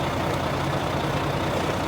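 A truck engine idles steadily to build air pressure in the brake tanks, giving a close, even, low diesel rumble with no talk.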